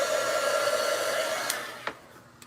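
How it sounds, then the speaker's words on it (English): A hair dryer blows steadily on freshly splattered craft paint for a ghost picture, a loud continuous whoosh that fades slightly toward the end, with a couple of small clicks and bumps near the close. "I'm just drying it a little tiny bit."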